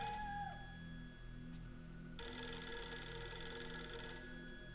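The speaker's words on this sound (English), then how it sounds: "Oh, phone call." Telephone ringing in the horror video game Fatal Frame 3: a chiming electronic ring that cuts in partway through and continues steadily, loud and close, over a low ambient hum, with no talk.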